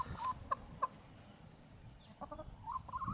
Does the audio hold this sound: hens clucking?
yes